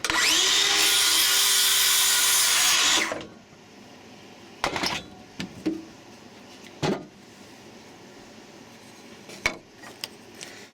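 A power saw cuts through a piece of cedar wood in a loud, steady whine for about three seconds and then stops. Scattered small knocks and clatters follow in a quiet room.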